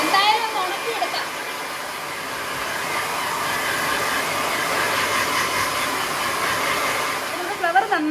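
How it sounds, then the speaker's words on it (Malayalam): A hair dryer drying fabric paint on a dress, running continuously at close range with a steady whirring hum throughout. "ഞാൻ വീണ്ടും എന്റെ ഡ്രയർ ആണ് ഇവിടെ ഉപയോഗിക്കാൻ പോകുന്നത്."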